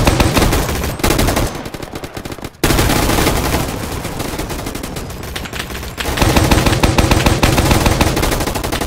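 Snowball launcher blasting in the video game Gunfight Arena, loud rapid bursts of shots layered with other gunfire, dense and continuous with brief pauses between volleys.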